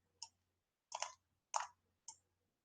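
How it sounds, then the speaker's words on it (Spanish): A few separate clicks on a computer keyboard, four crisp isolated keystrokes spaced unevenly over a couple of seconds, close and quiet in a silent room. "He preferido usar el teclado porque los números no me salen muy bonitos acá"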